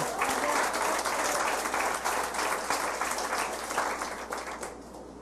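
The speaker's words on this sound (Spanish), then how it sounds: "Dé un aplauso al Señor" Congregation at a church service clapping in praise, a steady dense wash of applause sustained for several seconds, with a voice speaking over it near the start.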